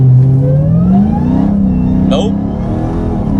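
Car launching on Mickey Thompson ET Street drag tires in a traction test, a loud engine revving up with rising pitch and a brief squeal, with a voice talking over it.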